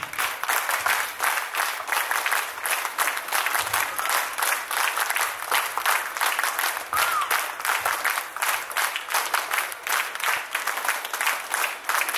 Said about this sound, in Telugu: దయవంచి పెద్దలందరూ చప్పట్లతో ఆహ్వానం పలకవలసిందిగా కోరుచున్నాను.